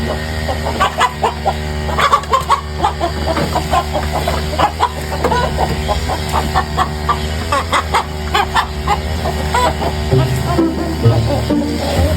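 Chickens clucking continuously at close range, many overlapping short calls and chirps from a small flock of fowl, busy and steady throughout.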